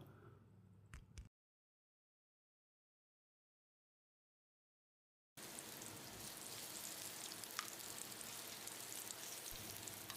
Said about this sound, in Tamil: மீதி இருக்கிற அதே எண்ணெயில் 10 நிமிஷம் மேரினேட் பண்ணி வச்சுருந்த பன்னீரையும் சேர்த்து ஃப்ரை பண்ணிக்கலாம்